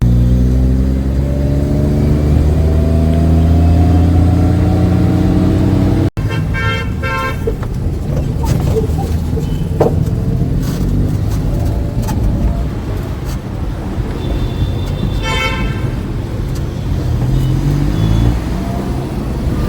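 A new Tata truck drives along the road. Its engine runs as a steady, loud drone throughout, with an abrupt break near six seconds and several short horn toots later on.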